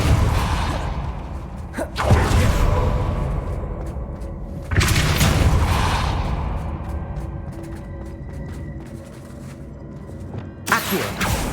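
Depulso spell casts in Hogwarts Legacy land as a few separate whooshing, creaking bursts spaced seconds apart, each sharp at onset and then trailing off, loud and close, with no one talking.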